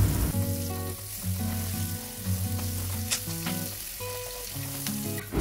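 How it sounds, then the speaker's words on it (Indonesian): Onions sautéed in a hot wok for butter-sauce fried shrimp, a steady sizzle with occasional stirring clicks, heard under prominent tonal background music, no speech. "kita masukkan bawang bombaynya lalu kita tumis sampai layu"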